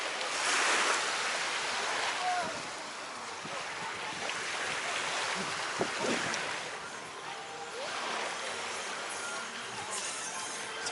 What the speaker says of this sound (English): So this is also a beach where you can go far out and it doesn't get that deep yet.